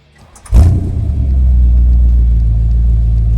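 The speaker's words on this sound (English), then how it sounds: "This one's got the lovely rear exit exhaust, which sounds glorious." A Pilgrim Cobra Mk3 replica with a 5.7L V8 and rear exit exhaust starts with a sharp bark, then settles into a loud, deep, steady idle rumble heard close up.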